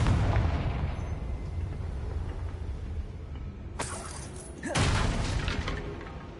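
In the video game Hogwarts Legacy, a Confringo fire spell is cast, with a low rumbling boom at the start that trails off, then a sharp whoosh and a second heavy blast, all fairly loud and close.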